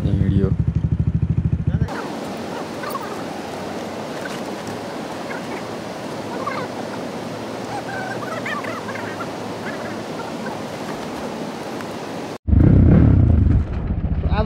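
A motorcycle, freshly fitted with a new spark plug after being submerged in a river, runs with a steady engine drone and wind rush over a long stretch, framed by louder talk at the start and end.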